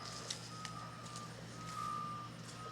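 Reversing beeps from road construction machinery sound steadily and fairly loud, a continuous high tone with a low diesel engine rumble underneath, no talking.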